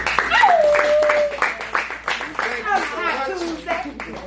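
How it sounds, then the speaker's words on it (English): Audience members at a live evening event in Cleveland clap in scattered bursts while lively voices and cheers, including a voice, rise over the applause. "give yourself a round of applause for making it out here tonight"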